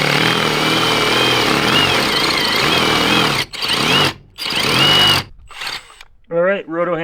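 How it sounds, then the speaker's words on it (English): Rotary hammer drilling holes into a concrete slab for gazebo anchors, a loud rattling hammering grind in several bursts separated by short pauses, followed by someone talking. "And so we're going to drill."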